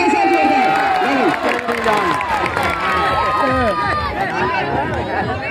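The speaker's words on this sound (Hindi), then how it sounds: "चले जनता ताली बजाओ" Spectators at an outdoor wrestling (kusti) match clapping and cheering, with dense overlapping shouts and voices throughout, loud and close.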